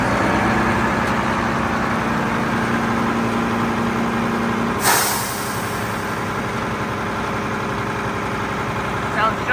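A Mack MRU garbage truck with a McNeilus Atlantic front loader body idles with a steady low rumble, a brief hiss of air midway, while people chat nearby.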